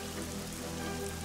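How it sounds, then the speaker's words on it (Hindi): Steady, continuous downpour in a telling of the Noah flood story, a dense even hiss of rain falling for days, heard alone without voices. "बारिश होते कई दिन हो गए।"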